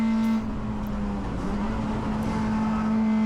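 A Honda Integra DC2 Type R race car engine holds a steady, high-pitched drone on track at Cadwell Park, heard close from onboard.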